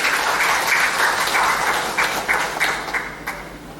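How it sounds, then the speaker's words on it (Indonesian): Audience applause at an Indonesian government event about telecommunications infrastructure, a full burst of clapping that starts loud and gradually loosens and fades over a few seconds. "Kita tepuk tangan dulu."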